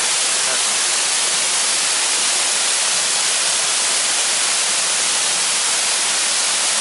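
Wang Tum waterfall at Khao Kho in Phetchabun, flowing heavily, gives a dense, unbroken hiss of falling water, loud and even from start to finish with no voices.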